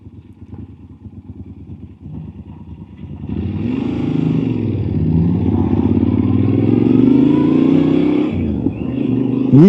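A motorcycle rides through the town of Voznesensk at about 60, its engine droning and rising steadily in pitch as it accelerates, loud and close with wind and road rumble throughout.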